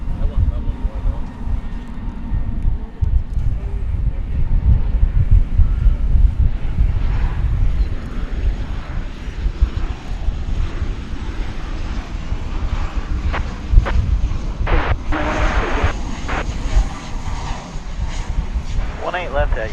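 A Frontier Airlines plane at DFW Airport gives a low, rumbling engine roar under wind noise, with people talking over it later on.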